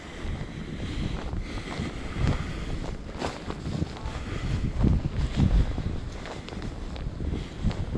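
Blizzard wind gusts through a city street in the JSQ neighborhood during the Blizzard of 2026, roaring continuously into the microphone with rough, surging buffeting throughout.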